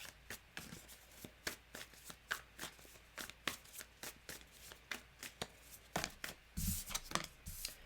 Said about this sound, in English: Thank you for giving me the opportunity to pull some cards for you.